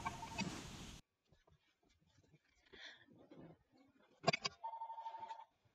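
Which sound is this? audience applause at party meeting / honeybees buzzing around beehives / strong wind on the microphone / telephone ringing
telephone ringing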